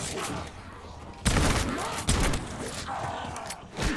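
Shotgun blasts in Call of Duty Black Ops 7 Zombies, a few loud booming shots with sharp thuds and mechanical clatter between them, set against busy game background noise.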